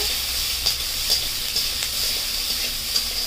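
Chillies, chopped ginger and garlic being stirred in a hot frying pan for egg shahi korma, a bright constant sizzle punctuated by regular spoon taps against the pan, close up with no voices.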